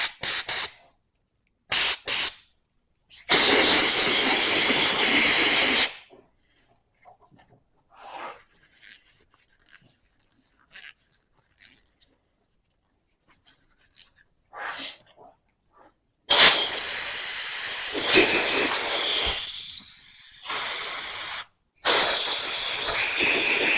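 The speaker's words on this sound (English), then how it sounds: "I'm going to spray it out." Cleaner sprayed into a brake caliper in a garage, several hissing aerosol bursts, first short then longer, close and loud, with quiet clicks and handling noises between them.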